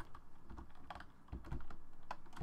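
Rapid close keystrokes on a computer keyboard, a quick uneven patter of clicks with a few heavier taps, quiet and without talk.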